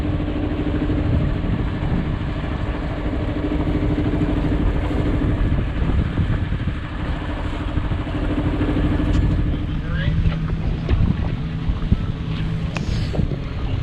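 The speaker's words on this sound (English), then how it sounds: "Just letting the engine warm up and all the systems get used to operating again" Boat engine warming up underway near a New Smyrna Beach anchorage: a steady low motor drone runs throughout, buried under constant wind rush against the microphone, with a few faint clicks near the end.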